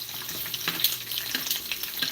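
Dried chilies toasting and frying in a hot pot of oil for enchilada sauce, a steady close sizzle with small crackles and pops throughout, no talking.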